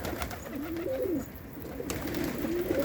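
Pet pigeons, including a red-winged male, coo softly in a low, repeated warble, a few calls close by over a steady background of room noise.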